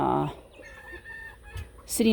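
Chickens cluck and a rooster crows among a flock of broody hens, ducks and geese, with short clucking bursts at the start and a louder call rising at the end over quiet farmyard background.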